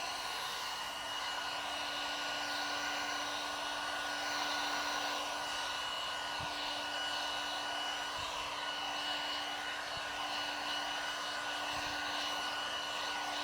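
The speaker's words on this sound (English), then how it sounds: "keep that heat gun moving," A heat gun blows hot air onto vinyl wrap on a Tesla Model 3 Performance bumper, giving a steady, close, unbroken whir with a thin constant tone through the whole stretch and a few faint knocks underneath.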